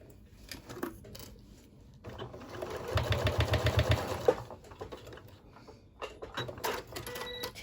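A sewing machine bastes a folded tab in place over the side seam of a round rice bag, a short close burst of rapid stitching framed by light fabric handling and clicks.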